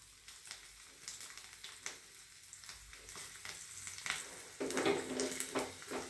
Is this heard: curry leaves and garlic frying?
yes